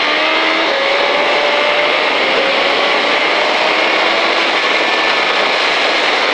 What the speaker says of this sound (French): Allez, on accélère en bloc,